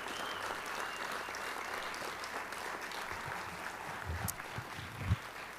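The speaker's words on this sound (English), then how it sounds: "Let's give them all a round of applause." A crowd applauds steadily throughout at a high school hall of fame ceremony honoring a varsity football team, dense clapping from many hands in a large room, with a few louder claps near the end.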